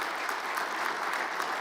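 Steady applause from a seated church audience fills the whole moment, many hands clapping evenly at a constant level with no voices on top.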